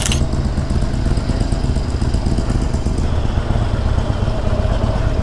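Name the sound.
Harley-Davidson 48 motorcycle engine running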